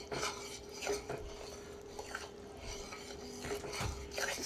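A spoon scrapes and rasps steadily around a pot of caramelizing pecan candy, with rhythmic stirring strokes and light metallic clinks over a low constant hum.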